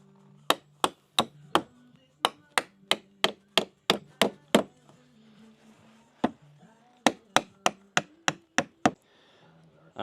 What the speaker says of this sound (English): Now just nail it home.